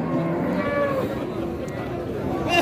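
Cattle low and moo amid the bustle of a cattle market in Kerek, near Limousin and pegon-type calves, the calls rising and falling continuously over a busy, crowded background.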